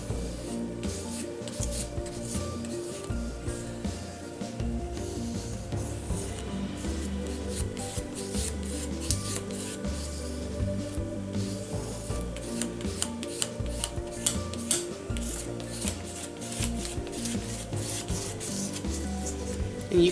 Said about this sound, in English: I'm going to use that same spatula that I use for the Liquitex gel medium and just lightly go over the page or pages